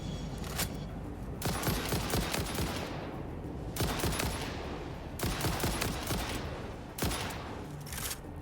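Gunfire at an enemy in the video game Satisfactory, with repeated bursts of rapid automatic shooting, each several seconds long and separated by brief pauses, loud and close with no talking.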